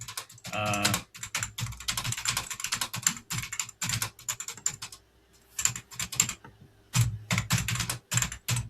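Someone types on a computer keyboard, producing rapid, close clicking keystrokes in steady bursts with brief pauses between them.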